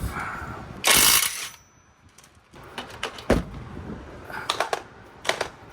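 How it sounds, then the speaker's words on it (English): An impact wrench works on the 17mm bolts holding a brake caliper carrier on a Hyundai Elantra, with a loud burst of hammering followed by several shorter rattling bursts and clicks nearby. "This robust, true impact wrench is strong enough to get them off."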